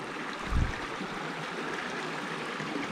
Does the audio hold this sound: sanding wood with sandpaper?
no